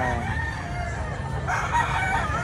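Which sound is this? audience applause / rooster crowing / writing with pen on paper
rooster crowing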